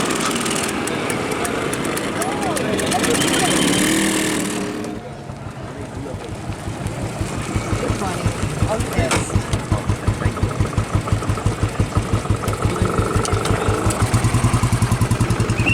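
A 1962 Royal Enfield, a 1962 Vespa and other vintage scooters and motorcycles roll past at a classic car rally at Fort William, Kolkata, with a loud engine drone, then steady rhythmic single-cylinder putts under a commentator's voice.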